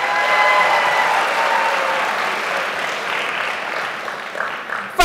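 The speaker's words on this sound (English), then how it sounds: "go ahead and give yourselves a round of applause" Conference audience at the 10th annual iLead event applauding themselves: dense, steady clapping from a large crowd, loud throughout and thinning slightly toward the end, with a brief burst at the close.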